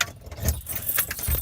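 A bunch of house keys jangling close to the microphone in a short, busy metallic rattle, with a faint car or engine rumble underneath.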